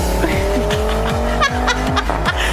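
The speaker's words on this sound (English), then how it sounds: "With their loud muffler." A car with a loud muffler roars past up close, its engine revving in rising and falling surges over a steady exhaust rumble, with no talking.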